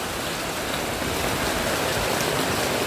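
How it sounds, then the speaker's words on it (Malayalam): Gentle, steady rain with no wind or thunder falls as a dense, even patter on surfaces, constant and fairly loud for the whole stretch. "ശാന്തമായ ഒരു അടിപൊളി മഴ തന്നെ പറയാം."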